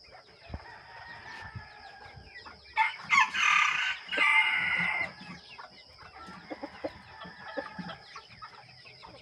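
A rooster crows loudly midway through, surrounded by scattered soft clucks from chickens nearby, with no talking.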